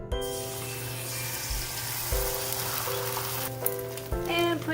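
Three beaten eggs sizzle and crackle in an oiled round pan, a steady hiss of frying throughout with faint tonal background hum and no voices.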